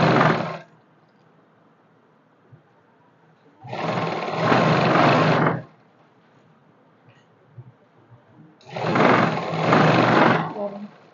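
Sewing machine stitching a simple salwar seam runs in three loud, steady bursts separated by pauses, each burst a sustained motor whir lasting about two seconds, close and clear.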